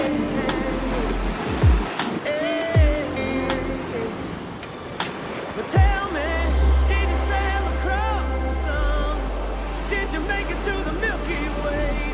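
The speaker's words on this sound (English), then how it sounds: "The waves are massive today." Massive, rough ocean waves crash on a stormy beach in Destin, Florida, a continuous roaring surf with a few heavy thumps and wind buffeting, loud and close.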